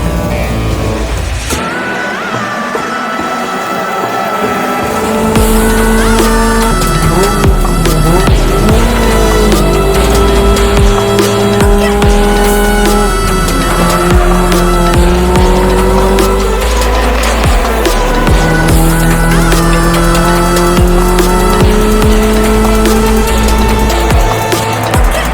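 Toyota 86 race cars roar away from a race start, engines rising through the gears with repeated shifts while tires squeal and skid, loud and continuous throughout the long run.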